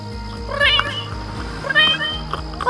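A cat meows twice in The Sims 3, with short, high, drawn-out cries over a low, looping musical background.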